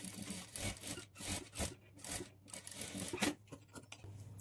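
A sewing machine stitches blouse cloth with a quarter-inch seam margin, running in short rhythmic bursts over a low motor hum, close and moderately loud with no talking.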